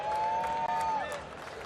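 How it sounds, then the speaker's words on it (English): Applause from a convention crowd at a DreamHack stage event, dense and steady over a whistling tone, tapering slightly toward the end. "Can we get a round of applause for him one more time, please?"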